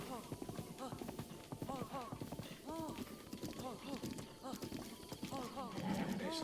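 Goblin's horse in The Legend of Zelda: Breath of the Wild, bucking as it is mounted and broken in, with repeated hoof clip-clops, snorts and whinnies over someone talking throughout.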